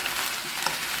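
Sliced onions stir-frying in a pan with soy sauce, a close, steady sizzle with faint stirring scrapes.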